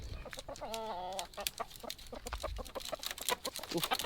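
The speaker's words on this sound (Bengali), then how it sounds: "ওরা কিন্তু প্রচুর মুরগি পালে। এই মুরগিগুলো দেখছেন" Village chickens in rural Indonesia clucking close by, a drawn-out rising call near the start followed by rapid, busy clucks and rustling that continue throughout.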